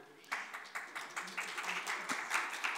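An audience at a talk on aging and geriatric care gives soft, distant applause, a steady patter of many hands that swells slightly. A voice speaks over it.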